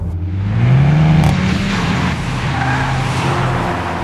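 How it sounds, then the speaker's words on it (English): Škoda Octavia RS230 with a 2-litre TSI engine driving hard, a loud close engine note with a rising pitch sweep as it accelerates, then a steady strained drone, mixed with tire noise and no speech. "The ŠKODA Octavia RS230 has a really cool engine."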